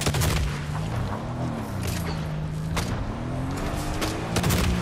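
Gunfire in a first-person shooter video game: dense bursts of shots with sharp broadband cracks and booms throughout, loud and continuous over a steady engine-like drone, with no talk.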